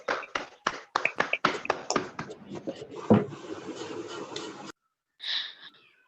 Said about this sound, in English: Give a huge round of applause to Master Arote Krishna.